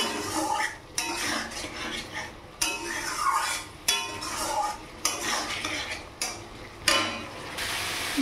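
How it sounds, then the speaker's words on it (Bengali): Spice paste, thinned with a little water, stirred and fried over a raised gas flame for a vegetarian cabbage dish: repeated scraping strokes of a spatula against the pan with a soft sizzle underneath, close and fairly loud. "গ্যাসের ফ্লেমটাকে একটু বাড়িয়ে দিয়ে এবারে কষতে থাকবো"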